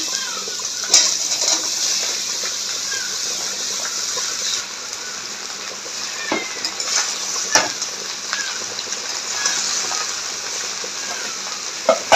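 Bottle gourd pieces dropped into hot oil with bay leaf, dried chili and cumin, sizzling and hissing steadily for the whole stretch, with occasional stirring scrapes.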